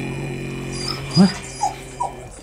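A dog whimpers and gives short whines in a radio play set in an isolated snowy place, with one louder whine in the middle and two briefer yelps after it over a quiet, humming background.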